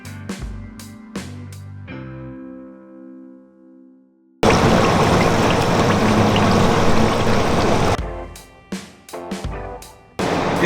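Rice is rinsed under running water from a tap, a steady loud gush in the middle preceded and followed by clattering pot and utensil knocks, with no talk.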